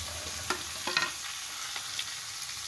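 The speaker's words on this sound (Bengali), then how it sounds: "এখন পেঁয়াজ দিয়ে দিলাম মুরগির সাথে।" Onions frying with chicken in a pan, a steady close sizzle with a few soft stirring clinks and scrapes throughout.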